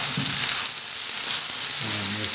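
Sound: stirring food frying in a pan

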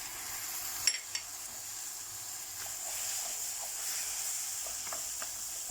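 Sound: tomatoes added to roasting burgu pasta in a pan

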